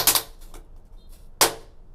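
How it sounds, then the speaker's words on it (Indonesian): Firecrackers go off inside a small toilet room: a sharp crackling burst of quick pops, a pause with faint debris, then another loud bang that echoes briefly off the hard walls. "Menyalakan mercon di dalam ruangan ini."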